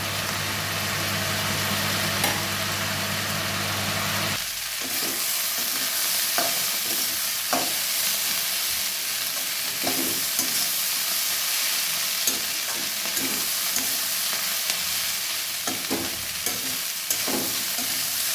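Onion stalks and flat beans frying in a little oil in a pan, with a steady bright sizzle and repeated scraping stirs of a spatula, and a low hum fading out after the first few seconds.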